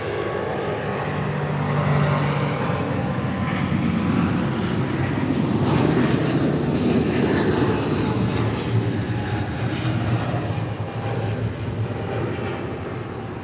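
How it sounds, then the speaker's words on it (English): A United Boeing 777 airliner at LAX roars steadily for the whole stretch, a loud, broad jet-engine rush that swells slightly midway and then holds without a break. "That was like the third 777 in a row with United."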